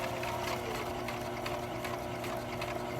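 A sewing machine runs forward after a back stitch while attaching a closure, a continuous fast mechanical whir and rattle of the needle, close and steady throughout.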